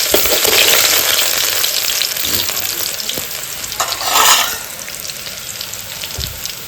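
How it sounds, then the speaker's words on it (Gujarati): Garlic frying in hot oil, a steady broadband sizzle with a brief louder burst partway through, close and continuous with no voices. "હા તેલ ગરમ થઈ જશે. એમાં આપણે નાખી દઈશું લસણ."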